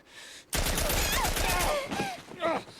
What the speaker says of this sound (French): Mais il a tiré sur qui?